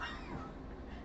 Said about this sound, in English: So, yeah, that was our cat Valius.